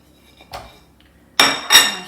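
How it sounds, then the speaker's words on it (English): Butter going into a saucepan in a home kitchen, a light metallic clink followed by two louder, sharper knocks of utensil on pan, close and brief against near silence. "so I'm going to put my butter,"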